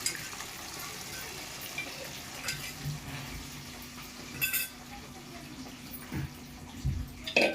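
Mutton pieces frying in hot oil until golden for a homemade mutton pickle give a faint, low sizzle, broken by a few soft stirring scrapes and clinks of a utensil against the pan.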